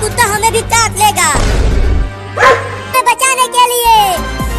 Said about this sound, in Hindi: देखो चिंटू, लगता है कुत्ता पकड़ ही लेगा उस बिल्ली।